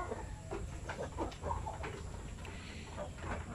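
A large Shamo Asil hen, broody and kept in a coop, gives soft, repeated clucks close by over a low steady background hum.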